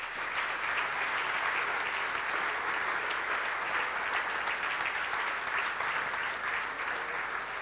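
Sustained audience applause for a coach at an athletics awards ceremony, steady dense clapping throughout with no talk over it.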